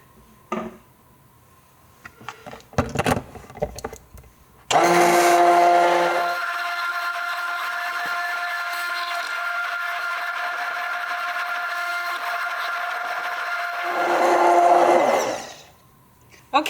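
An electric blender mixes preservative into a colloidal oatmeal lotion, a loud steady whirring motor that starts abruptly, holds for about ten seconds, rises briefly in pitch, then cuts off, preceded by some handling clatter.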